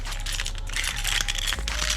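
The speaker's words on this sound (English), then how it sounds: "And grab my keys." Dodge Challenger Hellcat car keys are grabbed and jingle with close, bright metallic clinks and rattles that continue for about two seconds.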